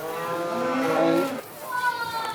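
A cow at a drought-season agricultural show gives a long, loud moo close by, followed by a second, softer lowing call.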